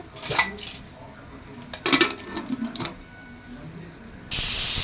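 A pressure cooker on a gas stove sends out a steady high hiss with a few metallic clinks, then breaks into a loud, sustained steam whistle near the end.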